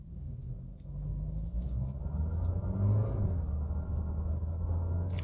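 A 2017 Renault QM3 small car accelerating along a straight, its engine a steady rumble heard from inside that swells slightly as it revs and then holds.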